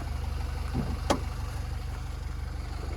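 A 2013 Opel Vivaro van's 2.0-litre Euro 5 engine idles quietly with an even, low throbbing rumble; a brief high whine rises once partway through.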